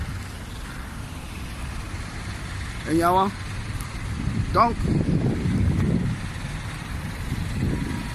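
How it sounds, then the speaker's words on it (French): Road traffic rolls past with the rumble of engines and passing cars, heard beneath someone talking in French. "Vous voyez, ça passe, la circulation, ça passe, ça roule."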